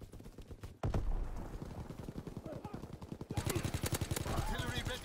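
Gunfire from an enemy strafing run in the Call of Duty WW2 video game, with bursts of rapid automatic fire that swell louder and denser partway through, crackling over a busy battlefield din.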